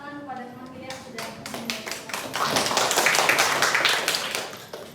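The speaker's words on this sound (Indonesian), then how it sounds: "beri tepuk tangan kepada teman kita" Classroom applause during a microteaching lesson, a burst of clapping that swells and grows louder toward the middle, with voices mixed in underneath.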